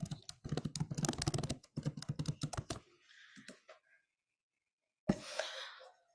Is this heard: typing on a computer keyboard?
yes